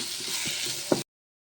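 Tomato-sauce pasta gravy bubbles and sizzles in a pan, giving a steady close hiss with a soft pop near the end before it cuts off abruptly after about a second.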